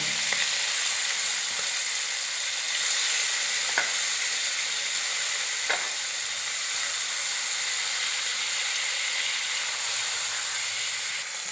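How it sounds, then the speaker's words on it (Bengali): Magur catfish fry in hot oil, giving a steady loud sizzle and hiss with a couple of faint clicks partway through, and no talking. "মাছগুলো আমরা গরম তেলে ছেড়ে দিলাম।"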